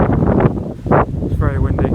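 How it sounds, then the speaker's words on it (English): Gusty wind buffets an outdoor microphone in loud low rumbles, mixed with a voice talking over it. "It's very windy."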